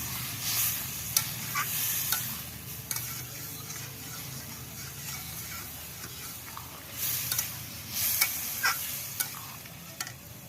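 Masala sizzles and fries in a wok after a splash of water for a broccoli dish, a steady close hiss broken by repeated sharp scrapes and clinks of stirring.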